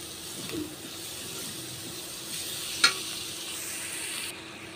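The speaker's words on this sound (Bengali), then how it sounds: "ফুলকপি আর আলু এভাবে কষিয়ে নিচ্ছি।" Cauliflower and potato frying with chili and turmeric powder in a pan, a soft continuous sizzle with light stirring and one sharp utensil tap near the end, no talking.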